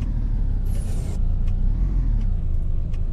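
A truck's air brake hissing in Euro Truck Simulator 2 on a Freightliner Classic XL, a short sharp hiss over a steady low diesel rumble, followed by a few faint ticks.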